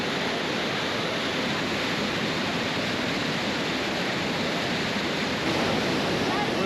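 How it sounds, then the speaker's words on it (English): Niagara Falls roaring at the Cave of the Winds, a dense, continuous broadband rush of falling water close by and loud, with wind buffeting the microphone. "we're here at Cave of the Winds, and we're going to get within 15 feet of the falls"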